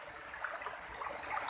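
Fast floodwater pours from the overflowing Moyog River through a flooded village, a continuous hissing rush at moderate level with small splashy flickers, no speech.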